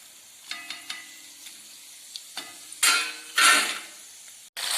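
Oil crackles and sizzles with scattered pops as raw jackfruit chips fry, then two louder bursts of frying hiss; no voices.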